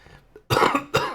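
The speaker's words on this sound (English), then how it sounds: "I'm coughing myself to death." An esports match commentator coughs loudly into the microphone, two harsh close bursts after a brief quieter moment, with no words spoken.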